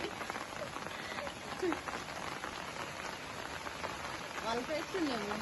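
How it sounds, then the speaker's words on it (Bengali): Heavy rain pours down outdoors, a dense, steady patter on surfaces that continues throughout at moderate loudness, with faint chirping or squeaking sounds briefly heard over it. "বৃষ্টি আবার জোরে আসছে"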